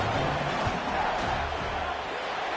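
A stadium crowd at an American football game roars steadily during a field goal attempt, trying to rattle the kicker; dense, sustained cheering fills the space without a break.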